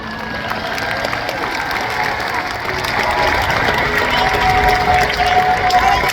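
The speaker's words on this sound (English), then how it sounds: "Everyone give a big round of applause to Keith." Crowd at a SeaWorld killer whale show applauding and cheering for Keith the orca, a broad, continuous wash of clapping and crowd noise heard from within a large outdoor audience.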